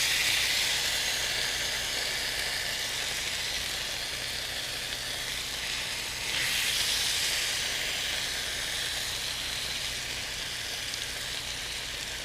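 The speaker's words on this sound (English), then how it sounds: "I'm going to add our pork to the pan. You're just going to cook this, saute it for a few minutes until it's brown on both sides." Pork sautéing in a hot pan gives off a steady, loud hissing sizzle that runs unbroken with no talk, swelling slightly partway through.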